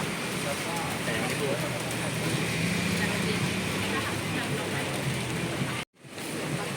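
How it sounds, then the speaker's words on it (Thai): Steady rain pours down on a Bangkok market in a dense, continuous hiss, with a brief dropout near the end before the downpour resumes. "ฝนตก"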